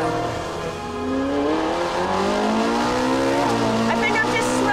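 A red Ferrari 458 Spider's engine drones and climbs steadily in pitch as it accelerates along an Italian mountain road. The rising, revving tone is close and continuous, with speech-like sounds faintly present in places.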